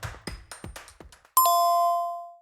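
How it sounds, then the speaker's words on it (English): A phone chimes with a text message notification: two bright, ringing dings that fade out slowly, following a short run of soft tapping or clicking. "I just got this weird text message."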